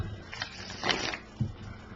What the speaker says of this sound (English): I like to do a series of shuffles when I shuffle.